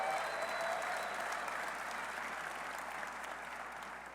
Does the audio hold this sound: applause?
yes